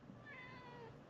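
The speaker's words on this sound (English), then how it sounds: "Look at the kitty." A cat meows softly in a quiet room, a single rising and falling call lasting under a second against faint background hiss.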